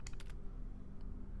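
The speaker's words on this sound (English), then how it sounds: "people need to use the keyboard to access a terminal" Keys clatter on a terminal keyboard in the video game Fallout 4: a quick burst of a few soft clicks at the start, then a lone tap, quiet over a low steady hum.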